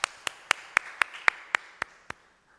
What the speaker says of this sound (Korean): 오늘 우리 예배를 받으신 하나님께 감사의 영광의 박수를 돌려드립니다.